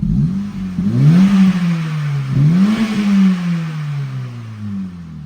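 A Honda Civic with a 1.8 engine revs through a Tegiwa 70mm exhaust, giving two loud, deep, burbly climbs in pitch that each fall away, then a slow settling hum.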